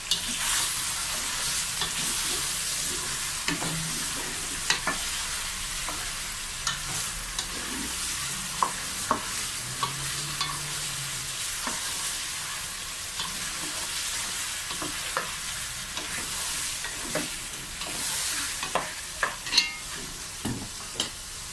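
Chicken fries with curry leaves in oil for achari biryani, a constant loud sizzle broken by frequent sharp scrapes and clinks as a spoon stirs the pan.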